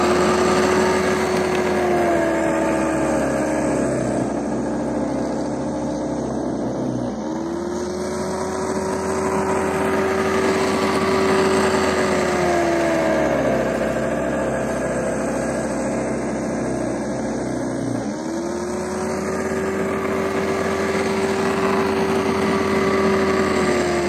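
A Snow Joe SJ623E 18-inch 15-amp electric single-stage snow thrower clears snow with a loud, steady motor whine and churning roar, dipping briefly twice as it moves between passes.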